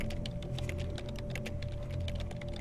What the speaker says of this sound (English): slapping the keyboard.